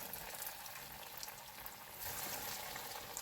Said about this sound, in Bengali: এবার আমি এইগুলোকে তেলে ভাজবো।